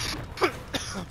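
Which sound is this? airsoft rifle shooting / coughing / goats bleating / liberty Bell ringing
coughing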